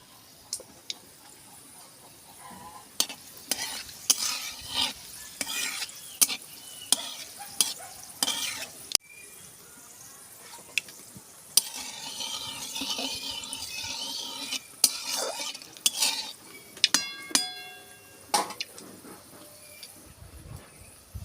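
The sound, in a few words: dried red chillies and coriander sizzling in hot oil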